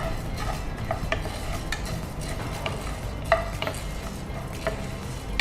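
Black pepper and coriander fry in a pan while a spoon stirs them, making repeated close scrapes and clicks over a gentle sizzle, with no talking.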